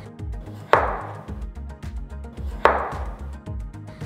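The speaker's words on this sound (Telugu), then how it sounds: "వీటిని శుభ్రంగా కడిగి స్కిన్ తీసేసి తర్వాత మీడియం సైజ్ ముక్కలుగా కట్ చేసి పక్కన పెట్టుకోవాలి" Potatoes, washed and peeled, being cut into medium-sized pieces on a board for aloo methi curry, two sharp knife chops about two seconds apart over a busy run of lighter taps and clatter.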